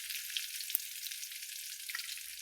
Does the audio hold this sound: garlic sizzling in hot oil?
yes